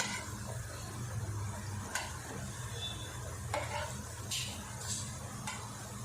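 Wheat flour snacks fry in oil on a medium flame, a continuous close sizzle broken by occasional scrapes and clinks as pieces are turned with a spoon; no voices.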